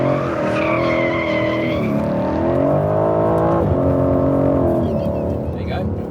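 A car drifting through consecutive corners sounds close and loud, its engine droning as it holds gears under throttle. Tires squeal and skid in long wavering tones that rise and fall with each slide.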